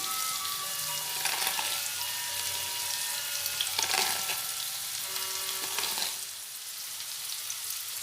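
Washed potatoes drop into hot oil for a Bengali potato and papaya curry and fry with a loud, steady sizzle and crackle throughout, briefly stirred, with no one talking.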